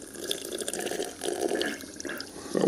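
Bubbles are blown through water in a glass, giving a close, gurgling, bubbling burble in uneven bursts with no talking.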